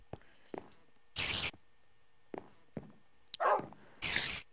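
Dogs barking in the Minecraft video game: several short, sharp barks spaced irregularly, with a couple of louder bursts standing out against an otherwise quiet background.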